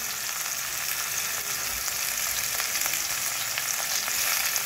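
Thinly sliced okra with turmeric fries in a pan and is stirred, giving a loud, even sizzle and crackle close up, with faint scraping of the spoon under the steady hiss.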